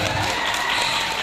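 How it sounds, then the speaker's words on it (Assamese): A crowd at a Rongali Bihu celebration in Najirakhat claps together, a dense, steady burst of applause filling the short moment. "তেখেতসকললৈ এবাৰ জোৰকৈ হাত চাপৰি বজাই দিব লাগে"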